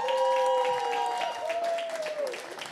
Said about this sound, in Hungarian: Nagy tapsot nekik!